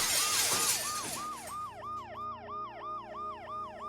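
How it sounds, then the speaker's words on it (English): An ambulance siren in the video game Dead Synchronicity wails in a fast repeating two-tone sweep, sharing the opening second with a loud crash of breaking glass before continuing alone at steady volume. "The noise the ambulance makes will cover the sound of the glass breaking."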